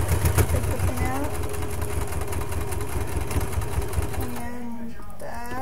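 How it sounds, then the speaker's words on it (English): Sewing machine running close up, stitching along the edge of a corset tank top seam in a continuous hum, with a voice talking over it. "You just sew right along the edge."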